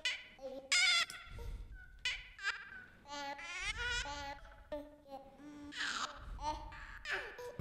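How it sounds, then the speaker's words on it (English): Chopped, randomized snippets of playful baby vocals played back through a sampler: short coos, squeals and babbles in choppy bursts with gaps, close and fairly loud, with some shifting in volume and stereo balance. "I have a sample of baby vocals, playful baby vocals. And I just chopped it off with Ableton's sampler"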